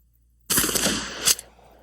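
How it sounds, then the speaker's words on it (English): A single rifled shotgun slug fired at a 50-yard target, a sharp loud blast after silence with a brief echoing tail and a second crack near the end. "Here's what happens when you fire a rifled slug at 50 yards."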